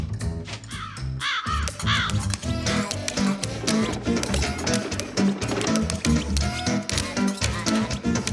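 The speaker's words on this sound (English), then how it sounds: "The greedy crows scattered away at once" Cartoon crows caw loudly in an animated children's series, harsh repeated calls layered over busy music and sound effects throughout.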